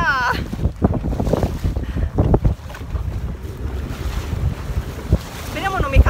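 A rubber dinghy motorboat heading out of port onto the open sea, with loud engine drone, strong wind buffeting the microphone and splashing waves, continuous and close throughout.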